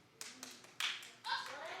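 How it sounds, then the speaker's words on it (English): Studio audience at a daytime talk show breaks into scattered clapping, a few isolated claps first, then a denser burst of applause near the middle and a sustained round toward the end, with talking over it. "Oh, it's a black person clapping."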